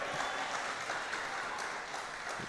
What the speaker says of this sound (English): which gets a big round of applause from those supporters on the far side